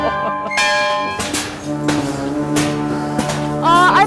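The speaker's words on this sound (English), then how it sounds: "I must ring the bell." A large bell rings repeatedly with long ringing tones that overlap, loud and close, with a brief voice near the end.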